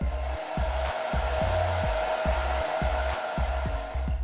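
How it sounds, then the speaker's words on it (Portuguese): A hair dryer blows continuously and loudly during a makeup routine for gluing down eyebrows, its steady whoosh overlaid by a repeating rhythmic low thumping pattern, no talk. "E vamos de secador de novo."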